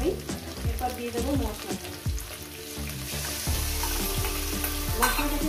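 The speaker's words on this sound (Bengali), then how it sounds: "তারপর আমি মশলাটা ভেজে নিয়েছি আমি।" Masala spices frying in a pan with a spoon stirring, a busy sizzle under repeated sharp scraping knocks that come in an uneven rhythm, close and fairly loud.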